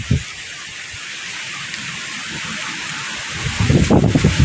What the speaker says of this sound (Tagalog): grabe kabalbal ang hangin